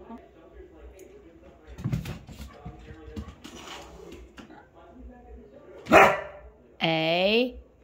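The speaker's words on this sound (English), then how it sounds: "no, no barking" A puppy aussiedoodle gives one sharp bark, then a longer whining yelp, close by and loud, after a stretch of quiet room noise and faint indistinct voices.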